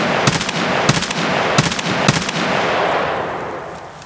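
Gunfire in the video game Escape from Tarkov: four loud, sharp bursts of shots spaced roughly evenly over a few seconds, with no talking.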